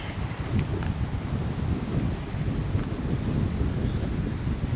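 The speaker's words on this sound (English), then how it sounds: "Wind's blowing, that feels good." Steady wind buffets the microphone on a waterfall trail at Little Bradley Falls in North Carolina, a broad low rumble that holds constant throughout and drowns out other detail. Nobody speaks.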